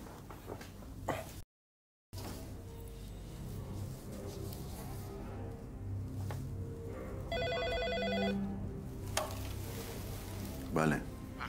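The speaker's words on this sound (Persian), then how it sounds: "تلفنم داره زنگ میخواد" A telephone rings in an office setting during a police drama scene, a brief electronic ring burst standing out over low background murmur and kitchen-like sizzling noise.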